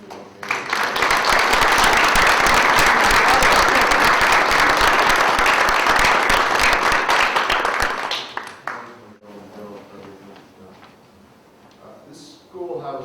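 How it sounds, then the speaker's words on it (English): A crowd gives a round of applause at the opening of a schoolhouse room in a town library. Dense, loud clapping runs for about eight seconds and then fades, with voices heard quietly afterward. "So I want to give a round of applause to Mary."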